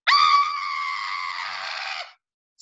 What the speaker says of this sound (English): The queen screams.